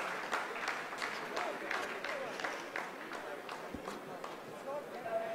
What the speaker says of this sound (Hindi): आप इस तालियों के गड़गड़ाहट को सुन सकते हैं